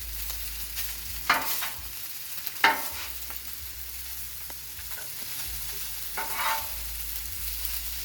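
Instant rice frying in plenty of oil on a Blackstone griddle, a steady sizzle with a few louder scraping stirs from a spatula, close by and without talk.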